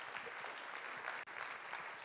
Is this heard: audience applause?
yes